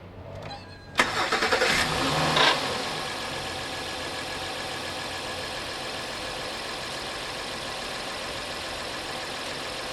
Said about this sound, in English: Okay, now time to start the car.